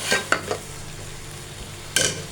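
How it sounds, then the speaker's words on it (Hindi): Fenugreek (methi) leaves fry in a pan for aloo matar methi, with a steady close sizzle and a few short scraping stirs near the start and another near the end. "हम इसको फ्राई कर लेते हैं।"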